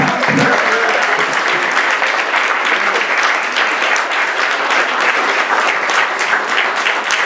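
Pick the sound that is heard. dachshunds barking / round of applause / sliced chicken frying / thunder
round of applause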